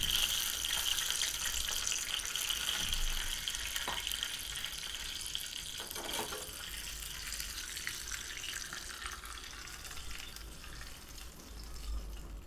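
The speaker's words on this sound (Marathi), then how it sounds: "आता आपण याच्यामध्ये थोडंसं पाणी घालणार आहे।" Water hits a hot dhokla tempering in a pan, giving a steady hissing sizzle that stays fairly constant and moderately loud, with no talk.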